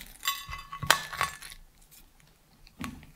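Fingers tapping the browned underside of a baked Pieminister beef steak and craft ale pie, a few sharp, light clinking taps close up, followed by quieter handling noise and one more soft tap.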